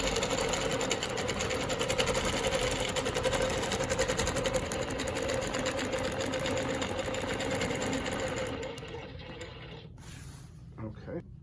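A longarm quilting machine runs steadily while stitching Baptist fan patterns guided by rulers, giving a dense continuous motor hum with rapid needle rhythm that eases off near the end.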